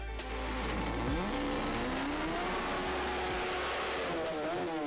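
A front-wheel drive Honda Civic drag car makes a run at Santa Pod Raceway, its engine revving loud and rising through the gears, with a faint voice underneath.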